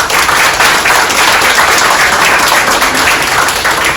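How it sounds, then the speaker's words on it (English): Loud, sustained applause from an audience at a community event, steady dense clapping with no break, alone and without talk. "Let's give a big round of applause for the nonprofits that showed up."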